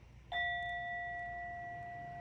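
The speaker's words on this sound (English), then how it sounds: "I'm going to ring the bell." A meditation bell is struck once to close a group session, giving a clear, sustained ringing tone that fades slowly in a quiet room.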